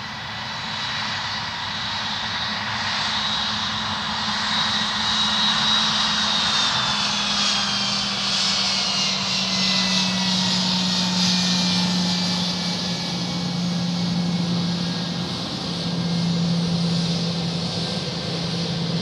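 An airliner takes off from runway 03 at Perth, its engine roar swelling and holding steady with a sustained drone and tonal whine shifting in pitch as it accelerates away, loud and alone.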